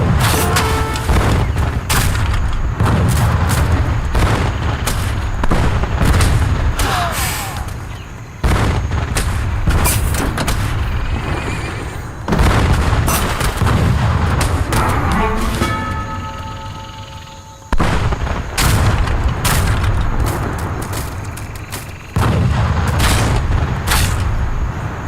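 Artillery fire in the real-time strategy game Age of Empires 3 (Wars of Liberty mod) during a tournament match, as a steady run of loud game booms and gunfire bursts with brief dips, and some faint voice now and then.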